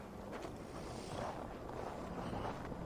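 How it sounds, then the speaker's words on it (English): Gusting wind of an approaching storm in the Assassin's Creed Valhalla video game, a steady hollow roar with slow swells in strength, moderately loud and without speech. "Windy. Storm coming."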